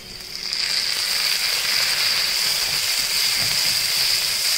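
Tomatoes are added to onions sautéing in a pan and set off a loud, continuous sizzle with a hissing wash that holds steady throughout, with no voices.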